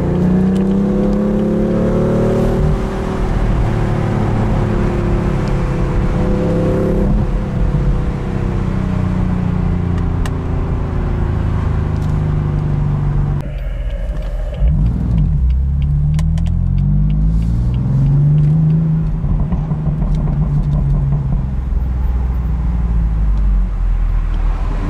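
A BMW X5 M leading a convoy of BMW M cars on a driving tour, its engine a loud, continuous low rumble with shifting revs, easing off midway then building again.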